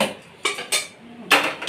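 Serving food into a child's bowl gives a few distinct clinks and scrapes of utensils against dishes, separated by short quiet pauses, close and fairly loud.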